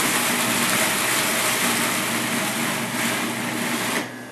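A blender whizzes tangy Carolina barbecue sauce into a cheese mixture, giving a loud, steady whirring roar that runs without a break for about four seconds and then cuts off.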